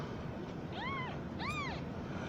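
Two short, thin meows from a mother cat a half second apart, fairly faint over steady background hiss.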